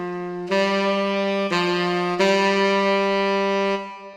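Dry saxophone made in FL Studio with no effects, playing three sustained notes in succession, clear, loud and alone.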